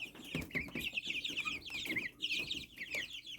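Young chicks a few weeks old, just getting their feathers, cluck and peep continuously at close range, a busy overlapping chorus of short calls with no voices.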